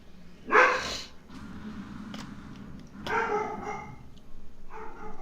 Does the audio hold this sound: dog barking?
yes